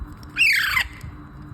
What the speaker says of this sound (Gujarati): આ છે પહાડી પોપટના બે નાના નાના કિડ્સ, બેબી પેરોટ છે.